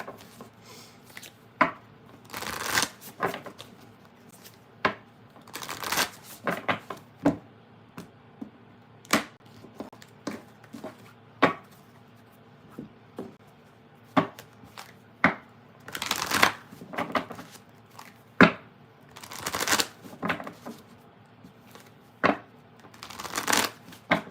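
Tarot cards are shuffled in repeated bursts of riffling and flicking, with brief pauses between rounds, close and crisp.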